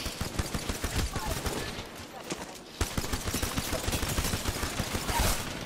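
Video game gunfire crackles in rapid, repeated bursts at moderate loudness, pausing briefly just before the three-second mark and then resuming in dense volleys.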